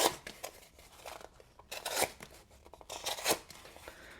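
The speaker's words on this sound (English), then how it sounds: "Let's do a little quick cardboard test. And this is thick cardboard that I'm cutting through tape too." A knife with a stonewashed blade saws through thick cardboard and packing tape in close, scratchy, rasping strokes, several bursts of cutting separated by brief pauses, with no voices.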